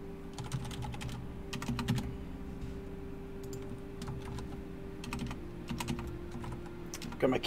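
Fingers type on a computer keyboard in irregular bursts of rapid clicking keystrokes with short pauses, close and moderately loud over a steady electrical hum.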